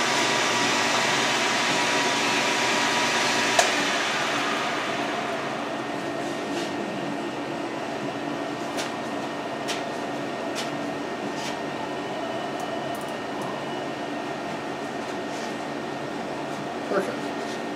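A metal lathe takes a fine cut of about five thousandths of an inch on a pen blank, giving a continuous, fairly loud whirring hiss that is brighter for the first few seconds and then settles into a steadier drone.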